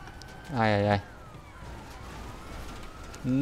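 Police car sirens in the GTA V video game, a wailing tone rising in a short burst, then another starting at the end, over steady engine and traffic noise with a voice nearby.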